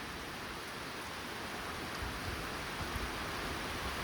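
Rain falls steadily in a rural Thai setting during days of nonstop downpour, an even, faint hiss of drops with no voices.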